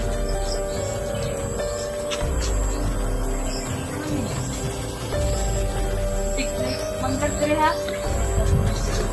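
Birds chirp and tweet intermittently in an outdoor setting, mixed with a steady background hum and occasional talking nearby.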